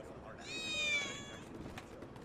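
A cat meows once in Final Fantasy VII Remake, a drawn-out, tonal call near the start over quiet game ambience, followed by faint background sound.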